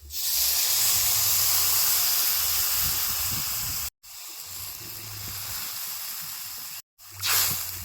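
Water hits a pan of frying potatoes, setting off a loud, steady steam hiss that runs for several seconds, breaks off twice briefly, then surges again, with no talk.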